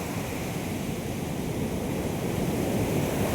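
Arabian Sea waves at Varkala beach, a dense continuous roar of surf filling the clip, close and loud with no break and no talk over it.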